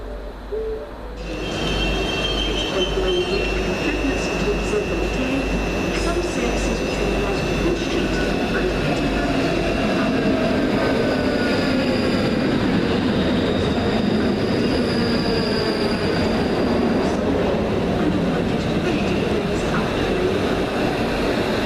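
Train rolling into Edinburgh Waverley station, a steady continuous rumble of wheels on rails with faint high squeal tones and hum, loud and constant throughout with no talk.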